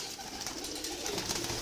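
Pigeons in a breeding setup cage give soft, low, throaty coos, close by, over a steady background hum with no talk.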